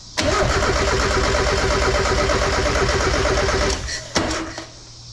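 A Mazda Miata engine cranks and catches, then runs at a loud, steady mid-pitched idle for several seconds before it drops off. A sharp knock follows, and the motor runs briefly again, quieter.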